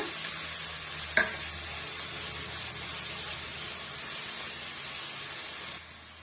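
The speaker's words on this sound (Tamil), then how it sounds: "இஞ்சி பூண்டு பேஸ்ட் வந்து சேர்த்துக்கலாம் சேர்த்துட்டு ஒரு ஒன் மினிட்டுக்கு இந்த பச்சை வாடை போகிற வரைக்கும் நல்லா வதக்கி விட்டுக்குங்க" Sliced onion with ginger garlic paste sautés in a pan, producing a steady close hissing sizzle with a single sharp utensil knock early on and no speech.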